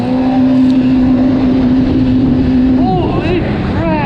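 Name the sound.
Yamaha GP SHO personal watercraft engine at full RPM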